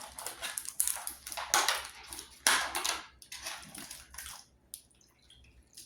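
Grapes being washed by hand in a basin of hydrogen peroxide water, with close splashing, sloshing and dripping in irregular bursts as the fruit is swirled and pushed under, easing off toward the end.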